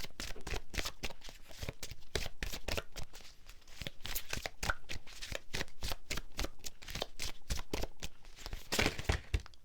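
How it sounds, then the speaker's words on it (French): Angel of abundance oracle cards shuffled by hand, a dense, continuous flutter of papery riffles and slaps, close and steady, with no one speaking. "Je vais tirer une carte des anges de l'abondance."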